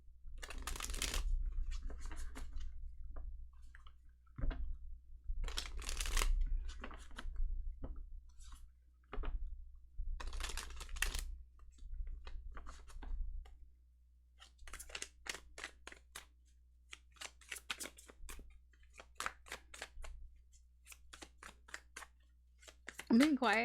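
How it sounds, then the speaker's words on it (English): Tarot cards shuffled by hand in repeated bursts of crisp riffling and flicking, close and fairly quiet, separated by short pauses, with someone talking softly in between. "I want to shuffle first"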